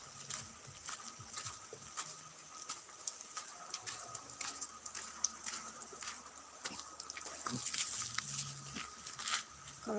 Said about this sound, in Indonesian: ada hujan